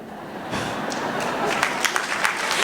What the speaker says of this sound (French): Non, n'applaudissez pas